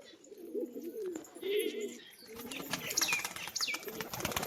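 A yellow-eyed female pigeon coos in repeated low, rolling phrases at close range, joined by a brief flutter of wings and a few higher chirps from other birds, with no talking.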